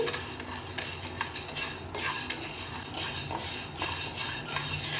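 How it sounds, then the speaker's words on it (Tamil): Urad dal dry-roasts in a pan while being stirred continuously, a dense dry rattle and scrape of grains against metal with repeated ticking strokes, close and steady throughout. "உளுத்தம்பருப்பும் கைவிடாமல் நல்லா வறுத்தாச்சு"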